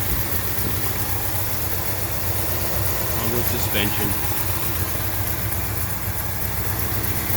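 A 1970 Pontiac GTO with a 455 engine, likely a '73 block, and a four-speed idles in a steady, low, throaty rumble while someone talks over it.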